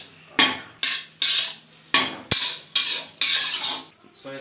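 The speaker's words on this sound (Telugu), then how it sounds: "ఇప్పుడు కంప్లీట్గా కలిపేసుకోవాలి బాగా." Masala being stirred into egg fried rice in a metal pan, a series of about eight scraping, clattering strokes with brief pauses between them, close and fairly loud, with no talking.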